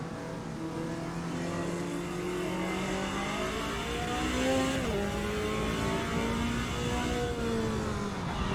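A race car at Road America in Automobilista 2, its engine droning steadily at high revs, then dropping in pitch as it downshifts and climbing again, with other cars' engines layered in the background.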